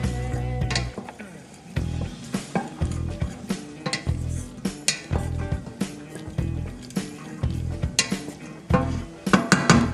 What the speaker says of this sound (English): Then we'll put the noodles back inside of the pan. Stir them up real good to get that oil dispersed just a little bit.